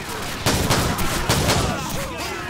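Gunfire in Call of Duty 4: Modern Warfare, a loud, dense stretch of rapid shots that nearly fills the whole moment, with several sharper bursts inside the steady roar.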